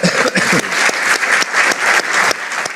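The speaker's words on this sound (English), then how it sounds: "Can we give him a round of applause, please?" A lecture audience applauds steadily and fairly close for just under three seconds, dense clapping with slight swells, with no talk over it.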